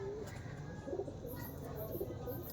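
Madras pigeons, a male and a female, cooing softly in a few low repeated calls over steady background noise, with faint chirps from other birds.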